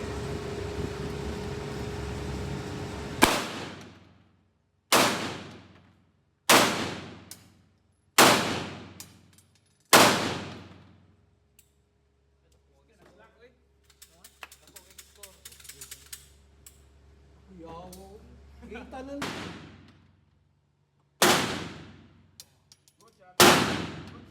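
Loud gunshots fire one at a time at irregular intervals, each a sharp crack with a decaying echo, and people talk and shout in between.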